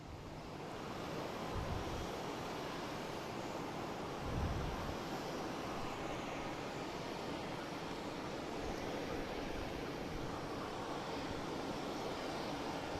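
An aircraft comes down runway 15 at Boston Logan International Airport. It makes a steady distant roar heavily mixed with wind noise on the microphone, with a couple of brief low gusts.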